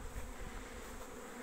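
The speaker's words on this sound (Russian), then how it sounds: "Здесь у нас тоже вот пчелы идут на облет." A steady, dense buzzing of many honeybees flying close by around a hive on orientation flights, continuous and fairly quiet, with no voices.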